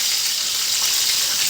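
Whole garam masala, tomato and onion fry in oil for a chicken curry, giving a loud, even, continuous sizzle with no pauses.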